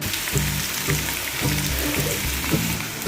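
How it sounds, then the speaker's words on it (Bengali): Onions fry in oil in a pan as the base for mustard pomfret, giving a loud, even sizzle with faint stirring clicks and no talk. "তো পেঁয়াজটা হালকা একটু ভাজা ভাজা হয়ে যাক।"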